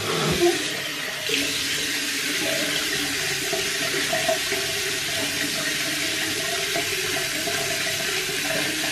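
Tap water runs steadily into a sink for rinsing, a continuous close rushing hiss with a few small clatters of handling.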